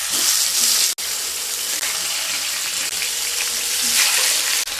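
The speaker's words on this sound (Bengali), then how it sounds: "তেল গরম হয়ে গেলে মাছগুলো ভেজে নেব।" Pomfret fish fry in hot mustard oil, giving a steady, loud, broadband sizzle that holds throughout, with a brief dropout near the start and another near the end.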